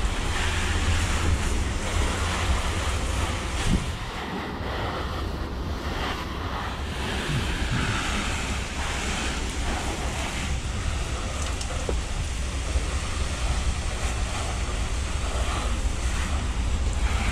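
An 8 GPM pressure washer with a Honda IGX8 engine rinsing a house, a constant loud roar of engine and spraying water with blustery wind-like noise, steady throughout with no talking.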